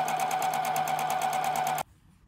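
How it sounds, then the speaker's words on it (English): Up close, a sewing machine stitches the half-inch folded edge of fabric for a rolled hem, with a steady, rapid rhythmic whir that stops abruptly near the end, leaving quiet. No one speaks. "First, I fold the fabric half an inch and sew the folded edge."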